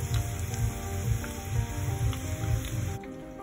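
Steady sizzling and bubbling of vegetable tempura deep frying in hot oil, with soft crackles throughout and a continuous close hiss.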